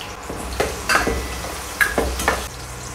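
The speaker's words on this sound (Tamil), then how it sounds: "கொஞ்சம் பட்டர் போட்டு ஆனியன் கேப்சிகம் வந்து நல்லா ஃப்ரை பண்ணிட்டு போறோம்" Onion and capsicum frying in butter for a quail sandwich filling, with several distinct spatula scrapes and clinks against the pan over a soft continuous sizzle, close up, with no talking.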